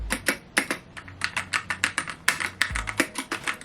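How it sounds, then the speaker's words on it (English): Rapid clacking keystrokes on a Smart Typewriter writing device, a close, crisp run of mechanical taps like a keyboard crossed with an old typewriter, with a couple of heavier thumps from the space key. "It sounds exactly like a mechanic keyboard slash a old typewriter combined, especially when you touch the space key"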